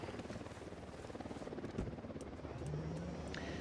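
A helicopter approaches in the video game Ghost Recon Wildlands, its rotor chopping in a fast, steady pulse that grows slightly louder, mixed with other game noise.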